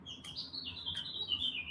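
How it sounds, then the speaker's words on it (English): Birds chirp outdoors in a thin, high, wavering whistle with a few sharper tweets, faint and steady over a quiet background. "Y'all hear the birds? The birds have started."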